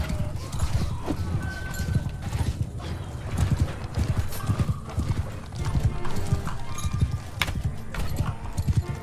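Horses gallop in the Mount and Blade 2 battle game, with rapid hoof clip-clops, neighs and clanking gear in a busy, steady rush and a voice speaking over the action.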